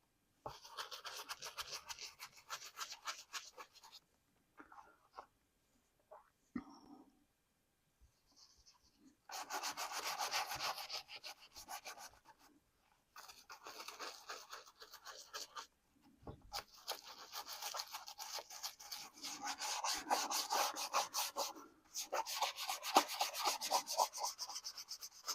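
A leather knife sheath and its belt hanger are rubbed and cleaned by hand, giving quiet repeated scrubbing strokes in bursts separated by short pauses.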